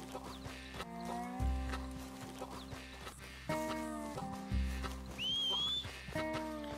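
Horse hooves clip-clop in Red Dead Redemption 2 in a few short bursts under steady game music, moderately close.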